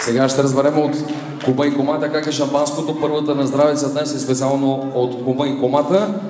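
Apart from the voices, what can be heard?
No everyday noises stand out.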